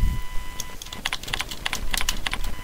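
Keys tapped on a computer keyboard while entering a references heading in a word processor, a close, brisk run of light clicks in short bursts with no speech.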